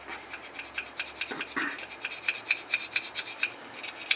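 Steel magazine feed lips being hand-sanded with quick back-and-forth rubbing strokes, a steady gritty rasp close by with an even rhythm, with no one speaking.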